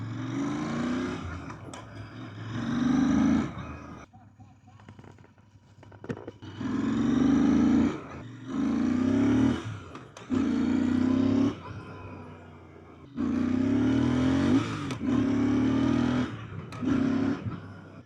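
A Royal Enfield motorcycle's engine revs during a test ride, in repeated loud bursts of throttle separated by brief quieter idle gaps, close and prominent.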